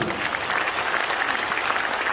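Congregation in a large church sanctuary at a joint Easter service claps together, a brief, dense burst of applause filling the room.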